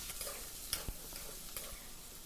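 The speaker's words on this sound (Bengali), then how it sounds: "পটল আর আলু আমি একসঙ্গেই ভেজে নিচ্ছি" Potatoes and pointed gourd frying together in a pan: a continuous soft sizzle with a few light scrapes and knocks of a spatula.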